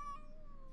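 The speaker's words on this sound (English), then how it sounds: "Wait, that is a cat." A cat in the video game Calico gives a short, faint meow with a thin tonal whine, brief and alone.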